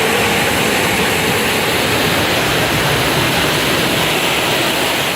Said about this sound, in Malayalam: പെരുമാതുറയിൽ റോഡിലേക്ക് തിരയടിച്ച് ഗതാഗതം തടസ്സപ്പെട്ടു